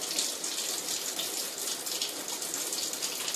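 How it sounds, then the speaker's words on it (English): Tap water running into a kitchen sink during food preparation, a steady, close, continuous rush of water with no breaks and no voices. "I'm running water so I can keep my hands relatively clean while I'm preparing food"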